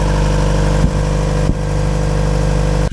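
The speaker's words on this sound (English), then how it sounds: "So the engine's running okay." A yacht engine with an oil pressure warning fault runs at a steady idle, loud and close, with a constant droning rumble broken only by two brief dips in its rhythm.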